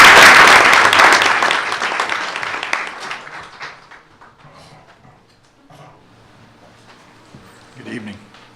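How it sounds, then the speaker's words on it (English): Loud applause from a school board meeting audience honoring a student bound for a state competition, dense at first and fading over a few seconds into quiet room noise and a faint voice. "So let's give her a round of applause."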